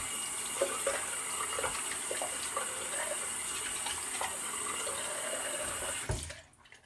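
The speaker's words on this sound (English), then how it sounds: "Quick rinse." A straight razor being rinsed under a running tap at a sink after a shave: a steady splashing stream of water for about six seconds, close and fairly loud, then cut off abruptly.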